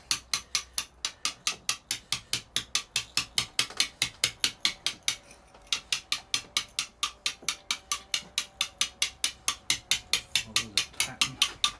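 A steel chisel is struck rapidly against Storeton sandstone while carving a stone man figure, giving dozens of sharp, evenly paced tapping blows close up, briefly pausing midway; a voice speaks briefly.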